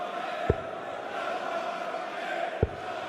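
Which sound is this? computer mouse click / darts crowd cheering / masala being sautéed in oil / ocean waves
darts crowd cheering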